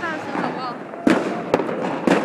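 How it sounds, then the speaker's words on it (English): New Year's Eve fireworks on a Copenhagen street, with three sharp firecracker bangs over a murmuring crowd and street noise. Voices are heard in the background. "Everybody's doing like a firework everywhere."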